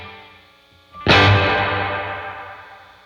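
An electric guitar chord rings out through a lush hall reverb preset on a worship pedalboard, struck once with a sudden loud attack and then a long, slowly fading wash of ambience, played alone.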